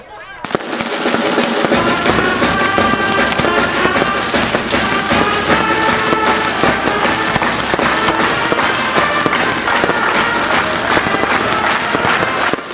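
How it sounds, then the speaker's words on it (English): A fireworks show at an alumni gathering marking a school team's last game, with dense, continuous crackling and popping bursts close by and loud, sustained for the whole stretch, with crowd noise mixed in. "And with a fireworks show"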